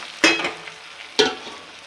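Sabudana khichdi stirred and fried in a pan, with two distinct scraping stir strokes about a second apart over a soft, steady sizzle.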